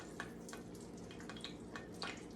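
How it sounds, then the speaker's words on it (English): Pork chops sizzle quietly in a frying pan of hot fat, giving scattered soft pops and crackles over a low, steady background hum. "And if you listen, you can hear that sizzle."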